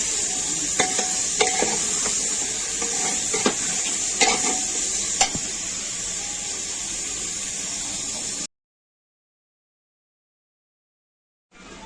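Peas being stirred into a sizzling frying pan while making paneer rice, steady loud frying hiss with several quick scraping spatula strokes, then a sudden cut to silence before the sizzle briefly returns.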